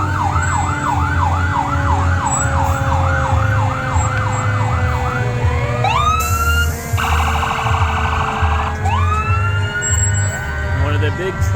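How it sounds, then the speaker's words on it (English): A fire engine siren wails in a repeating up-and-down pattern at the Down East Christmas Parade in Davis, North Carolina, on a big truck from Otway, engine number 2. Rising whoops and horn blasts follow over a steady engine rumble and crowd noise. "One of the big trucks down from Otway,"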